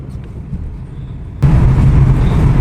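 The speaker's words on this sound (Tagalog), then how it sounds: "Mga sakyanan, traffic," Road traffic in the UK, a low steady rumble of passing cars that jumps noticeably louder midway as a nearer vehicle goes by, with no talking.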